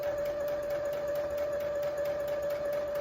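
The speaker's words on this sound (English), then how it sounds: "I'm sewing my 1/4 inch stitch on top." A sewing machine runs steadily up close, stitching a quarter-inch seam on quilt fabric, with an unbroken whirring hum that does not pause.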